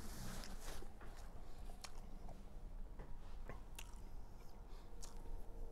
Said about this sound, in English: I'm chewing my food, but it is early